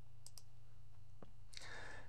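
A computer mouse clicks a few times while navigating PixInsight astrophotography software, sharp isolated taps close to the microphone over a steady background hum, followed by a brief rustle.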